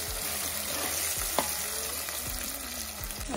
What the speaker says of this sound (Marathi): छान मिक्स करते।